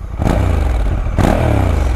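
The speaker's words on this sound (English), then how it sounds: "I mean, this this Africa Twin engine" The Africa Twin engine of a Honda NT1100 motorcycle revs loudly up close, with two sharp throttle blips rising over a deep, steady engine roar.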